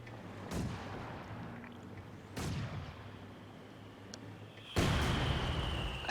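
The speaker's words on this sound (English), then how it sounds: "I find that kind of interesting how Nick has gone with the double mortar there" Three heavy mortar blasts from a double mortar setup in the video game Company of Heroes 2, spaced about two seconds apart, each a sharp boom with a rumbling tail over a low battle background, with no talk.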